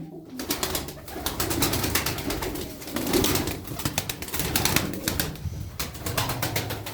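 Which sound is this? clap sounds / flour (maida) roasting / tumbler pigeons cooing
tumbler pigeons cooing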